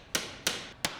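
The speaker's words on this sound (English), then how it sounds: "Adjust using a hammer." Three sharp metallic hammer taps on a Protan ventilation duct fitting, evenly spaced about a third of a second apart, close and fairly quiet, with no talking.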